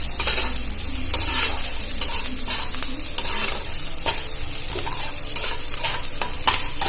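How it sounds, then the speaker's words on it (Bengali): Onions sizzle steadily in a hot pan with whole garam masala of cardamom, cloves and cinnamon, a close, continuous crackle broken by the scrape of stirring. "আমি এটা একসাথে ভালো করে ভেজে নেব।"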